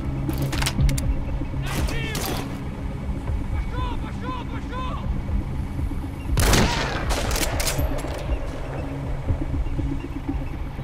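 Gunfire rings out in Metal Gear Solid V: The Phantom Pain, with bursts of shots over a steady engine-like drone and a sharp, loud crack near the middle, while a voice talks through the action.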